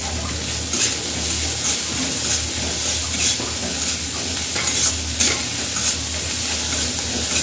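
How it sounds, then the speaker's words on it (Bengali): Shrimp and pumpkin frying in a pan for a Bengali curry, a loud continuous sizzle broken by repeated scraping stirs of the spatula, with no talking. "এবার এটা সুন্দর করে একটু ভাজতে হবে"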